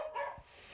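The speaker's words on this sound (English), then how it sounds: "the barking starts as soon as my master goes to work" A dog barks in short bursts, close and fairly loud, with no one talking over it.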